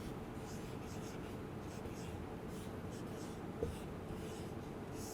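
Pen or chalk scratches out the word Delhi during a Hindi grammar lesson for young children: a soft, steady scratching over quiet room hiss, with one small tap near the end.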